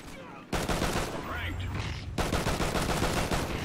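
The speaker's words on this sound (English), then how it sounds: "Why are you shooting at me?" Rapid video-game gunfire in a Cranked match, dense bursts of automatic shots filling the whole stretch, loud and close with brief gaps, layered over game sounds.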